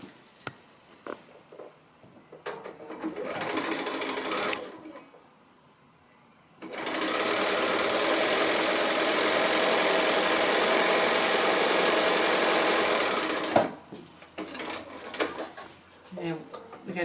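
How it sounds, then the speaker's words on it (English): Sewing machine stitching a partial seam in a quilt block, a loud continuous whirring run of about seven seconds, with shorter bursts of machine noise before and after it. "we're going to come down this next side here"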